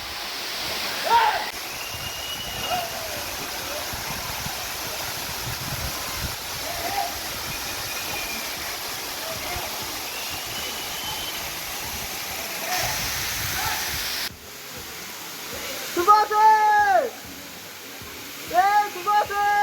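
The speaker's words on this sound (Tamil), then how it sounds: "அப்படியே ஆகாயத்துலேருந்து இந்த ஃபால்ஸ் கொட்டுற மாதிரி இருக்குங்க" The Talakona waterfall pouring down as a broad, steady roar of falling water, close and continuous, while people talk and whistle-like voices break in near the end.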